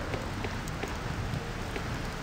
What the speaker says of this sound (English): You're walking in the rain alone.